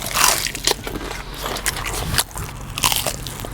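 Crunchy breaded honey sriracha chicken tenders are bitten and chewed close to the mic, loud crisp crackles and crunches in quick bursts with a brief pause midway.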